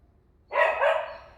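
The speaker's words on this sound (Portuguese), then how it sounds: "tem um dos meus cachorrinhos está latindo lá atrás" A small dog barks once in the background of a quiet indoor room: a single short, yappy bark rising out of near silence, moderately close.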